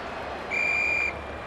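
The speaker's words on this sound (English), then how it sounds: "The umpire whistles for a ball up" A single sustained referee whistle blast in the AFL 26 football video game, about half a second long, shrill and steady, rising clearly above a low crowd murmur.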